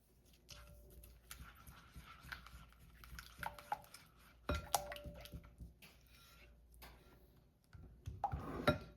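Brownie batter of almond flour and sugar stirred in a bowl, with irregular scraping and clinking of a utensil against the bowl, a few sharper knocks, and a busier burst of stirring at the end.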